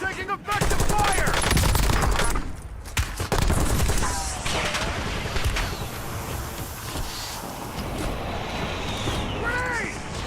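Call of Duty Warzone gunfire, rapid bursts of automatic shots and heavy volleys with in-game voice callouts, loud and sustained across the clip.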